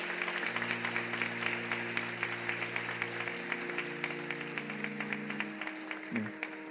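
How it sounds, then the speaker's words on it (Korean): A Sunday evening church congregation claps to welcome a guest, a steady, moderate round of many hands with a sustained tone beneath it, ending with a brief thump. "우리 박수로 환영해 주시기 바랍니다"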